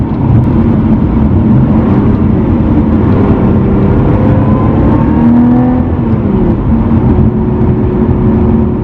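A 2017 Lotus Evora 400 sports car's 3.5-litre, 400-horsepower engine revs and accelerates with a steady, rising drone, loud and close throughout, with no talking.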